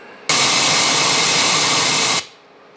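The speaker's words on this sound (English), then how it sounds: "let's give a listen to this white noise" Steady, loud broadband white noise, a flat hiss like a radio tuned between stations, starting abruptly and holding for about two seconds before cutting off.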